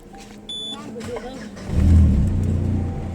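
A Peugeot 407's engine turns over and catches, settling into a low, steady rumble, while a person talks nearby.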